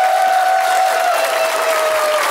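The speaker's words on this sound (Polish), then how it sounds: "Wielkie brawa przed wami" A stand-up comedy audience greets a comedian with loud, dense applause and crowd noise, filling the room continuously, with a faint high whistle-like tone running through it.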